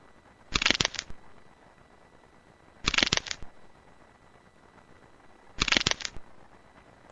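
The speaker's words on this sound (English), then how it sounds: "Our patient's going to feel some pressure as we cut away the ingrown nail." Three short, evenly spaced bursts of crisp clipping and crunching as an ingrown nail is cut away in a gross-out medical video game, over a quiet, steady background hum.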